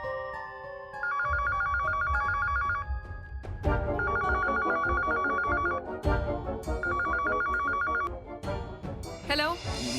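An old-style telephone bell rings in repeated bursts, loud and close, with a short pause between each ring.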